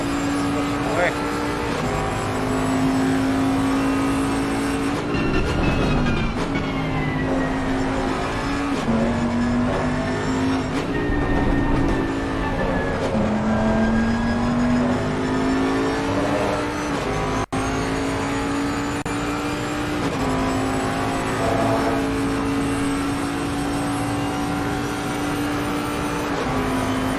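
Race car lapping the Nurburgring in a Pro-Am round, engine droning steadily with pitch sweeps through shifts and braking into a chicane, continuous and loud beneath a commentator's voice.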